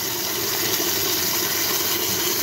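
A full-setting garden sprayer runs water into a bee-feeding syrup mix, giving a steady, loud rushing hiss with no breaks.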